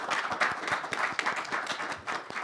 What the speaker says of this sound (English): I would like to invite us to applaud our speakers here.